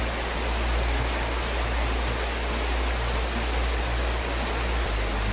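Floodwater surging in waves through a street after a sudden, very heavy downpour, making a steady, loud, broadband rushing roar that holds without a break.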